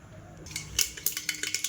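Mustard seeds crackling in hot oil for a tempering: a run of sharp, irregular pops and ticks, close and fairly loud, quickening after the first moment with no voices.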